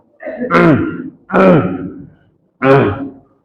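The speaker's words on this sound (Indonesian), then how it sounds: "Yang berdehem." Three separate throaty, harsh bursts of a person clearing their throat, each about a second long and loud, with short pauses between them.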